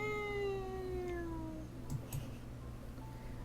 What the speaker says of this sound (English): I heard a tiny cat crying from beneath my legs